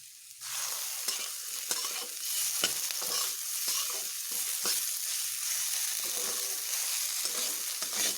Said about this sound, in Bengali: এবার আমার ঢাকা খুলে আমি আরও একটু ভালোভাবে ভেজে নেব।